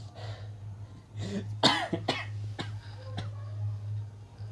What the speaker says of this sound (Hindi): खाली सिर्फ मुझे एक खांसी दिला सकती थी